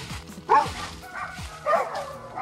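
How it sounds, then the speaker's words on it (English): A big dog gives two separate barks outdoors near a creek, spaced about a second apart and moderately near. "Big dog."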